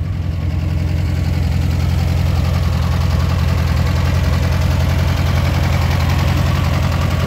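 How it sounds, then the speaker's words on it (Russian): A ZAZ-968M Zaporozhets car engine idles steadily throughout, even and rumbling with a constant mechanical throb and no voices. "Такая работа двигателя."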